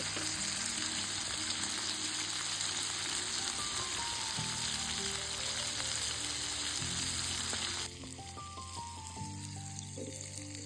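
Garlic-seasoned potatoes fry in a pan over an open campfire at a campsite, giving a steady, loud, close sizzle that runs throughout and drops slightly in level near the end, with no talk.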